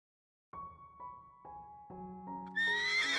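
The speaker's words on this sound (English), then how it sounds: "the sound of hooves echoed through the courtyard" A horse neighs in a castle courtyard with a loud, drawn-out whinny that rises in stepped pulses and ends in a bright, shrill cry. The horse sounds alone and close, with no talk.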